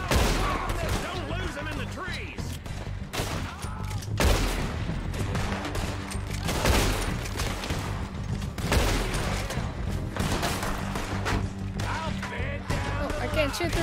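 Rapid gunfire in Red Dead Redemption 2, with repeated sharp shots and bursts arriving in irregular clusters throughout. Voices talk over the shooting.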